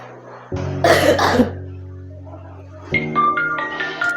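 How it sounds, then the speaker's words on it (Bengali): A few harsh coughs close by, a short burst followed by a quieter pause, with a background tone underneath. "কাশিটা বড্ড বেড়েছে"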